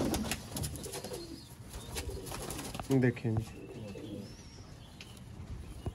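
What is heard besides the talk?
Sialkoti pigeons cooing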